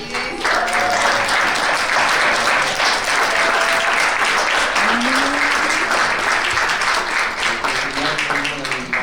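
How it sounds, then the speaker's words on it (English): A large audience applauds for a film Q&A event, with dense, steady clapping filling the whole stretch at close range, with occasional voices and cheers rising faintly through it. "So just thank you for giving me that round of applause."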